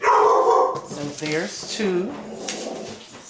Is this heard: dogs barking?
yes